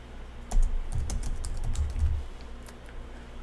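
Typing on a computer keyboard, a close, quick irregular run of light key clicks and taps, heard alone without talk.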